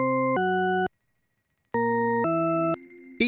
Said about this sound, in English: Each pair of tones contains a mixture of high frequency and low frequency notes